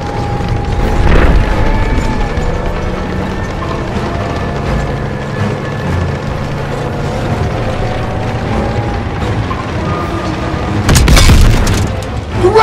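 Panzer tank cannon fire in Call of Duty: WWII, a heavy booming blast near the start and another loud rumbling blast near the end, with mechanical battlefield rumble and a droning hum between them.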